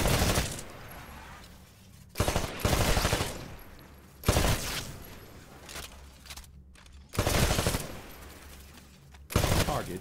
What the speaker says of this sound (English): Switch to your rifle. Destroy all of the targets in the shooting range.